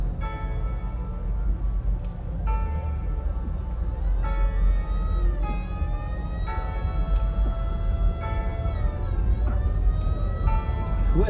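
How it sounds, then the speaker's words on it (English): Police siren wailing on a busy city street at night, rising and falling tones sweeping repeatedly over the rumble of traffic, fairly close and continuous throughout. "It sounds like an actual cops behind us."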